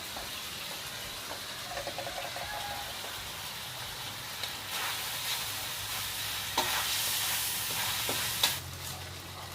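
Beef sizzles and crackles in a hot pan on the verge of burning, a constant hiss with occasional sharper pops and stirring scrapes, close and continuous.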